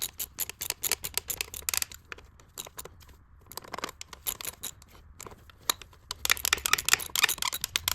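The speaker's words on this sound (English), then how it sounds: "just going to snug these bolts back up with the ratchet" Rapid, close clicking of a ratchet snugging thermostat housing bolts on an Acura RSX engine, delivered in quick bursts of ticks separated by brief pauses.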